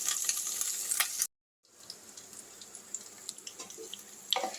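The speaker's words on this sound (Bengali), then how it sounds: "দেখো এইভাবে আমি ফোড়নটা আগে ভেজে নিচ্ছি।" Cumin, bay leaf, dry red chilli, green chilli and ginger fry in hot oil as a tempering for a chana dal dhoka curry, giving a steady close sizzle with a brief pause and some stirring clinks, with no talk.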